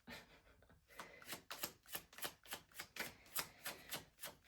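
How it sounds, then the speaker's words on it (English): Tarot cards are shuffled by hand in a quick, regular run of soft riffling slaps, about three per second, close and quiet, with no speech over it. "I'm going to shuffle it here."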